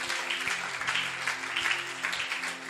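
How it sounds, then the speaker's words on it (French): A church congregation at a seminar claps together in a broad, sustained round of applause, with steady held musical tones running underneath. "Est-ce qu'on peut acclamer pour notre papa?"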